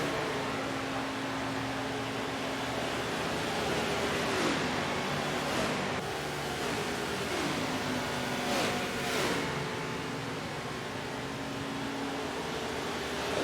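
Race car engines in the video game NASCAR '15, a sustained droning engine note with gear-shift dips in pitch and other cars whooshing past, loud and continuous throughout.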